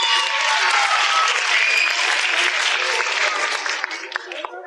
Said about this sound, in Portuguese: Palmas pro Davi!